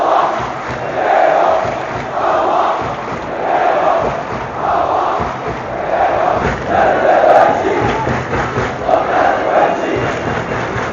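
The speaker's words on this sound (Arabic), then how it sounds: "بعد هتافات الجمهور ضد ريبيرو" A large stadium crowd of Al Ahly football fans chants against coach Ribeiro late in a league match with the team trailing 2-0, a loud, dense roar pulsing in a steady rhythmic chant that rises and falls every second or so.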